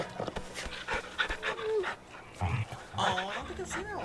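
A dog pants rapidly and whimpers softly while being petted in Final Fantasy XVI, close and clear, with someone talking and exclaiming over much of it.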